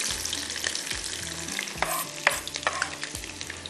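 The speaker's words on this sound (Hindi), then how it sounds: "अब इसमें जाएगी प्याज और टमाटर" Onions and tomatoes stirred into a hot tarka of mustard seeds and cumin for baingan masala, with steady loud sizzling and frying under repeated scraping strokes of a spoon against the pan.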